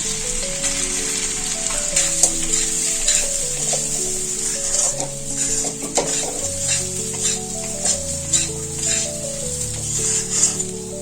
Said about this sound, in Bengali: এর মধ্যে আমি মুগের ডালটা দিয়ে ভেজে নেব।